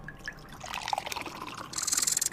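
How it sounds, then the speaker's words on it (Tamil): Maaza and Slice mango drinks poured into two glasses, a close liquid splash and trickle that grows into a brighter, fuller stream near the end. "இந்த கிளாஸ்லையும் இந்த கிளாஸ்லையும் மார்க்கெட்டில் ரொம்ப ஃபேமஸாக இருக்கிற மாசாவையும் ஸ்லைஸையும் ஊற்ற போகிறேன்."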